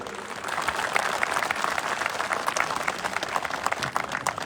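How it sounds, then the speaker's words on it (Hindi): Audience applause at a police gathering addressed by a superintendent, a steady, moderately distant round of clapping from many hands lasting several seconds. "एक जोरदार ताली अपने लिए बजाइए।"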